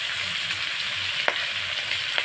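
Fish frying in a pan at home, a steady close sizzle and crackle with two sharp pops of spitting oil, no voices.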